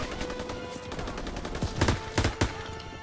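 Video game gunfire: several sharp shots ring out over a dense, steady background of battle noise and hum, with three or four distinct close reports clustered toward the end.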